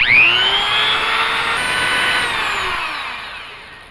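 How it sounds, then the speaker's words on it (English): A Dremel rotary tool grinds a hole in the metal of a 1980 Dodge D150 pickup, a loud, close, high-pitched whine that holds steady and slowly sags as the bit bites. "So I'm going to see if a Dremel will do the job for me."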